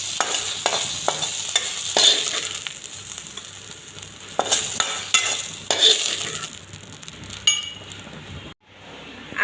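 Brinjal fries in oil in a pan with a steady soft sizzle, broken by repeated sharp clinks and scrapes of a spatula stirring against the metal.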